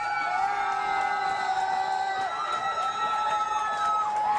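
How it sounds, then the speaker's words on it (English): Crowd cheering, whooping and shouting with sustained noisy roar throughout, loud and continuous, with tonal music lines running beneath the crowd. "let's give him applause"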